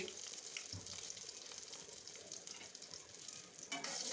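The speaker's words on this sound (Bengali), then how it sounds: "এখন এভাবে এই গরম মশলাটাকে একটু ভেজে নেব।" Whole garam masala spices (bay leaf, cinnamon, cardamom, star anise and dried chilli) frying in hot oil for a beef dopiaza, giving a steady, close crackling sizzle with occasional stirring scrapes and no talk.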